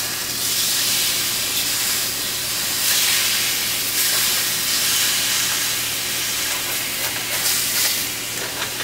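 Meat sizzles loudly and continuously in a hot pan after being flipped onto its skin side, a dense bright hiss with small crackling pops throughout.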